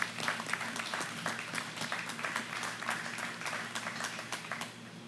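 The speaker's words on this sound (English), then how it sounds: "Would you join me in giving them a round of applause?" A crowd gives a round of applause honoring contractors at a project event, a steady wash of many hands clapping throughout, moderately distant and even, with a faint low hum underneath.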